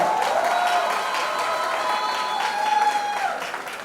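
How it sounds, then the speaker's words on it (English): Students applaud their college principal in an auditorium, a sustained crowd of clapping and light cheering heard at moderate distance, with a faint tonal hum running through it. "a big round of applause for your principal for giving Mahima this shot"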